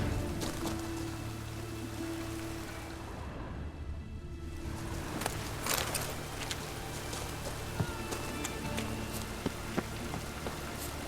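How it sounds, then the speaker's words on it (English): Steady rain in The Witcher 3: Wild Hunt, pattering on surfaces with scattered heavier drops and a constant wet hiss that briefly thins midway, with no voices over it. "It just rains and rains."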